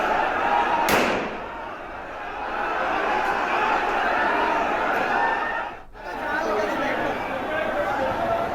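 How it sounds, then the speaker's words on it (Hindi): Police fire shots into the air to control a violent clash between two communities in Patiala, with a sharp crack and a later bang standing out over a noisy crowd. "आप सुन भी सकते हैं किस तरीके से हवाई फायरिंग की आवाज़ यहां पर सुनाई दी"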